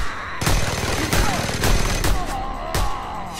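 Mounted gun firing in Just Cause 2, a rapid run of loud, evenly spaced gunshots with booming impacts, close and continuous.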